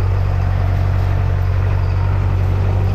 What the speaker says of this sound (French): Tracteur de la paysannerie.